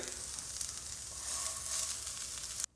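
Vegetables and sausage sizzling in a large pan of melted butter, a dense continuous hiss that swells slightly partway through before cutting off abruptly, close with no voices.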